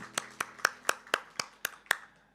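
A church congregation at a Sunday morning service claps in a steady, even rhythm, about eight distinct claps over a couple of seconds, moderately close and fairly soft, without any talking.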